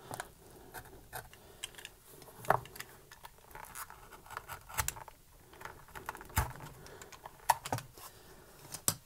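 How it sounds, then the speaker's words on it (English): A blade cuts excess leather from a knife sheath in a workshop, producing a string of faint, irregular snips and scratchy clicks, close up and quiet, with no voices. "What you'll want to do is cut off this excess."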